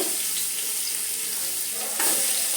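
Onions frying in a large pot of oil for chicken polao, giving a steady, close hiss and crackle that swells briefly louder near the end, with no one speaking.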